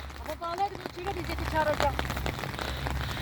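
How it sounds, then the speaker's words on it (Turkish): Rain falling steadily outdoors at a village farm makes a dense, even patter across the whole clip, with someone talking over it. "Yağmur yeni başladı"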